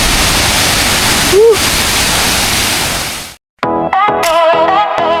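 Tirto Galuh waterfall in Blitar gives a loud, steady roar of rushing water for about three seconds before it cuts abruptly to music.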